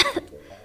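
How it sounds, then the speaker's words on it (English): A character coughs up blood in the Ever 17 visual novel: a single short, harsh cough bursts out at close range and fades quickly. "we see Koko, who's coughing up blood"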